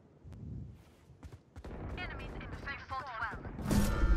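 Gunfire in the shooter game Valorant, with several sharp shots scattered through the clip and a louder burst near the end, set against game sounds and speech.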